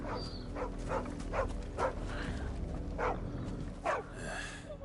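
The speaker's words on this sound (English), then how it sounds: "Oh, little doggy." A brown-and-white dog in the Final Fantasy XVI video game barks repeatedly in short, irregular yips over a dense background of game ambience and music.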